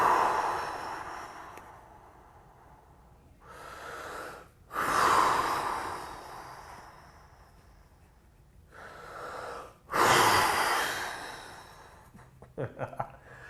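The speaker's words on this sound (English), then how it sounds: "I'm gonna breathe in, big breath in. Breathe out." Slow, deep breaths drawn in and pushed out, several long airy swells with quiet gaps between them, close and fairly loud, with no talking over them.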